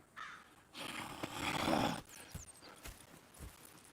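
A horse in the Red Dead Redemption 2 game gives a close, loud whinny, and a few distinct hoof clops follow, with no talking.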